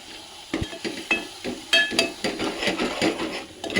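Mutton frying in oil with a little water sprinkled in, giving a close, steady sizzle broken by scraping stirs and light clinks of a utensil against the pan.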